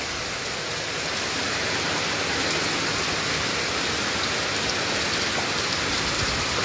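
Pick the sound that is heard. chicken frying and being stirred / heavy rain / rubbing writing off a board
heavy rain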